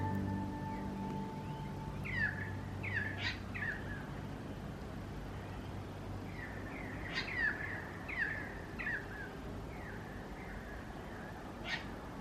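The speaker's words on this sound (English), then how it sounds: "You can hear all the birds heading home" Faint calls of birds at sunset chirp in short clusters against a soft steady outdoor hum, scattered at intervals and fairly distant, near a cottage garden.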